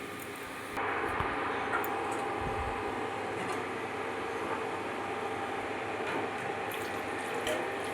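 Hot water is poured into a pan of cooking potatoes and pointed gourd, starting abruptly with a steady rushing, hissing flow that continues evenly at close range to the end.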